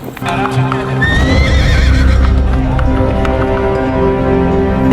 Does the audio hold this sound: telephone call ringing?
no